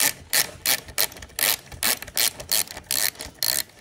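A ratchet wrench working a 6mm T6 Allen key bolt loose from the hand guard of a CFMOTO motorcycle, a steady run of about a dozen clicking strokes, close and fairly loud with no talk.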